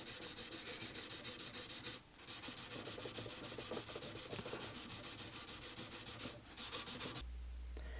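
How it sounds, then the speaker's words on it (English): Classical guitar frets polished with fine 0000 steel wool, a close, rapid back-and-forth rubbing scrape in continuous strokes with a couple of brief pauses, no voices. "I polish each fret with 4-0 steel wool"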